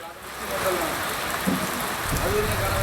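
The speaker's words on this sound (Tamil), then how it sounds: "சென்னையில் காலை முதலே லேசானது முதல் மிதமான மழை என்பது சென்னையின் புறநகர் பகுதிகள் மற்றும் வில்லிவாக்கம், கொளத்தூர், வடபழனி, அடையாறு உள்ளிட்ட பகுதிகளில் பெய்து வருகிறது" Light to moderate rain falls over Chennai with a steady, dense hiss close by. The patter holds evenly throughout, and a faint voice can be heard briefly beneath it.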